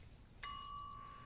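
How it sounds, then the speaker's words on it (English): A single bell strikes once with a sharp attack, and its clear, ringing tone hangs for nearly a second before cutting off, quiet and alone. "Oh, that bell."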